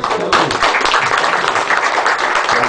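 Audience applause in a steady, dense patter of many hands clapping, loud and close, with no talk over it.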